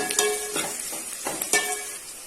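Garlic, onion and green chillies sauté in a hot pan for egg curry, crackling under several brisk scraping stirs of a spatula, close and fairly loud.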